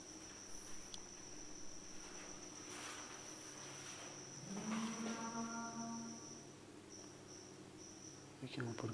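A drawn-out low bellow, like a buffalo lowing at a distance, rises out of a steady night backdrop of shrill crickets and insects, faint and slightly eerie.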